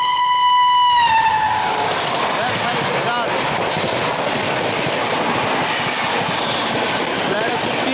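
An Anand Vihar superfast train overtakes the Amrit Bharat Express on a parallel track: a horn blares briefly at the start, then a loud, steady rushing rumble of passing coaches fills the rest.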